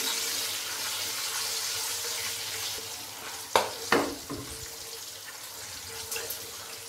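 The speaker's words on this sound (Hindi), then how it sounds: "सब्ज़ मिर्चों को हल्का सा फ्राई करेंगे और साथ ही मैं इसके अंदर डालूंगा 1/4 टीस्पून हल्दी पाउडर का।" Green chillies with turmeric powder fry in a pan, a steady soft sizzle running throughout, broken by a couple of sharp clanks of a spoon stirring near the middle and a lighter knock near the end.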